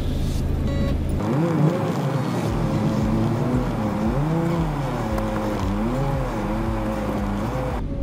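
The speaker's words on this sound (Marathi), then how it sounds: "तू उतर, मी गाडी टर्न मारून येतो." A small car engine hums steadily as the car turns and pulls away, with the revs rising and falling in smooth waves throughout. Road and wind noise sit underneath.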